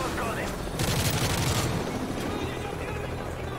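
Gunfire rattles through a battle in the Call of Duty: Modern Warfare 3 campaign, loud rapid bursts over a dense roar of game noise, with a voice talking over it.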